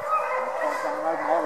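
Hound dogs baying and yipping outdoors, a loud, continuous whining howl with wavering pitch, sustained throughout.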